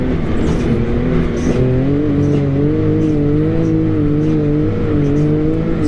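A 2021 Can-Am X3 Max XRS Turbo RR side-by-side climbs a hill, its turbo engine droning loud and close at steady high revs with slight pitch wavers, alone without talk.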